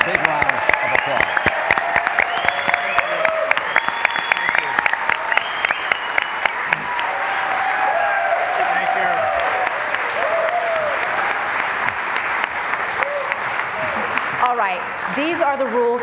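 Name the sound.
audience applause for debate candidates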